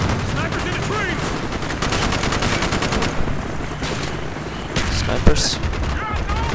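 Rapid, loud gunfire from a Call of Duty Black Ops crash-site mission, with snipers in the trees: dense repeated bursts and sharp cracks filling most of the stretch, with a heavier bang near the end.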